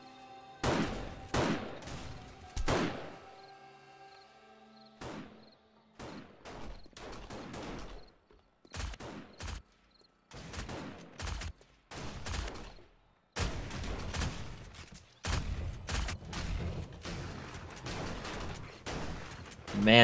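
Gunfire rings out during a Blood Moon horde night in the video game 7 Days to Die: loud, irregular bursts of shots and rapid volleys separated by short lulls, building to dense firing near the end.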